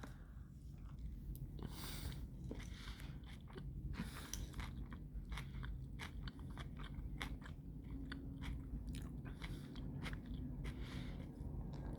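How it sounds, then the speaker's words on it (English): Biting and chewing a fish taco with crunchy cabbage, guacamole and salsa, a close series of crisp crunches and wet chewing that repeats steadily over several seconds with no talking. "I'm gonna take this giant bite."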